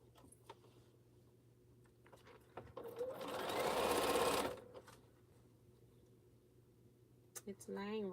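A sewing machine stitches T-shirt quilt pieces together in one steady whirring run of about two seconds. It rises out of a quiet room and stops cleanly, with faint handling sounds before and after.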